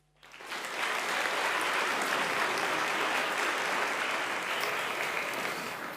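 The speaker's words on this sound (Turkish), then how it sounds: "Alkışlarla sizleri şöyle yanıma davet etmek istiyorum." A studio audience at a quiz show breaks into applause for the contestants, a dense, steady wash of clapping that rises quickly and holds evenly for several seconds with no talking over it.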